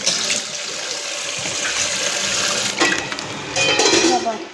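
Water pours and splashes over chillies in a basket, a steady close rush broken by a few shifts and clatters.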